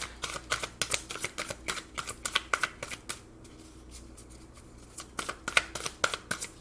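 Rapid riffling of a deck of tarot cards in two bursts with a short quiet pause between, close and crisp, no talking.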